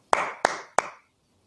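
Three sharp hand claps in a steady rhythm, close and fairly loud, each ringing briefly before the next, as part of a children's wudu clapping song.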